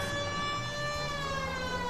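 Police car siren wails from L.A. Noire, a loud steady tone that slowly glides in pitch, heard alone with an engine rumble underneath.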